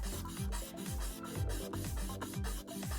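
Hand sanding of a resin wish die: a rhythmic back-and-forth rasping scrub, about a dozen quick strokes in steady succession, close up and without speech.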